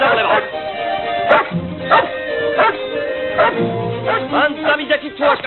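Several dogs bark and yip repeatedly in an excited, overlapping burst, close and loud, with a person's voice shouting over them in an outdoor film scene.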